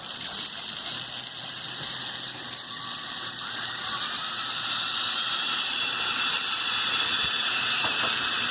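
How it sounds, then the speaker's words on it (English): Two Lego Technic Power Functions large motors drive the gearing of a Lego Technic Canadair CL-84 tiltrotor model, producing a steady, continuous mechanical whir with a faint ratcheting gear chatter, heard close and alone with no talking. "This one is driven by 2 power functions large motors"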